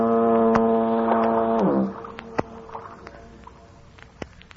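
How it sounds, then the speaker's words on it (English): A deep foghorn blast on San Francisco Bay holds a steady, rich tone for nearly two seconds and then cuts off, leaving faint tapping and ambient noise in a quiet old radio-style recording. "that symphony of foghorns booming across the bay"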